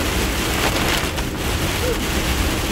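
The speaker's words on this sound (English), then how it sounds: "It's like really raining." Steady, dense hiss of heavy rain pouring down close by, loud and continuous with a faint wind rumble underneath.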